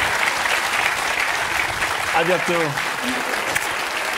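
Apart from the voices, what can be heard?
studio audience applauding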